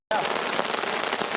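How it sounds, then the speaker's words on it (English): Hail and rain pelt a tarp shelter in a Glacier National Park thunderstorm, a sudden dense close drumming that starts abruptly and holds steady and loud. "It is starting to hail crazy."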